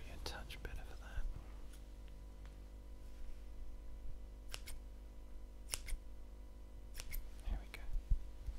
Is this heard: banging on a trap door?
no